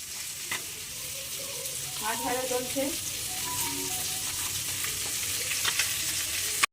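Food sizzles and fries steadily in a home kitchen pan, a continuous hiss with a few clinks of utensils being stirred, close by.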